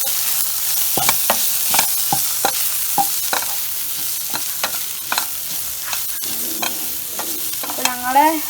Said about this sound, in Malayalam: നന്നായിട്ട് വഴട്ടെ. അതിൻ്റെ പച്ചപ്പ് മാറാതെ നന്നായിട്ട് ഇളകി കൊടുത്ത്